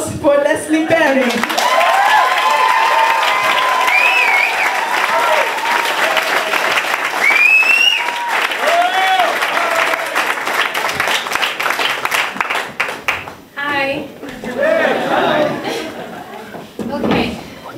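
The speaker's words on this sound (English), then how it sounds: "Can I have an applause for Leslie-Ebony?" Audience applauding a performer at a live show: sustained dense clapping from a crowd with some cheering and whoops, then tapering off into scattered claps as a voice begins.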